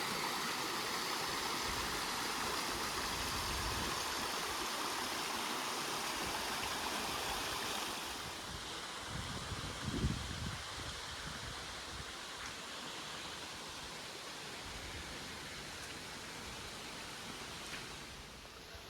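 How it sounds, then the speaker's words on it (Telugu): Water rushes steadily along a rocky stream channel near Kailasakona Waterfall, a continuous broadband roar that eases slightly partway through, with a brief low thump near the middle and no voices. "కైలాస కోన వాటర్ ఫాల్ దగ్గర నీళ్లు ప్రవహించేటువంటి దారి"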